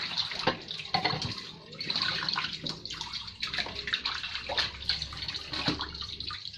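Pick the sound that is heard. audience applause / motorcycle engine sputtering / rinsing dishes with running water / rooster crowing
rinsing dishes with running water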